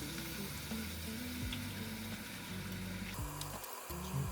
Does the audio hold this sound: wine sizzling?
yes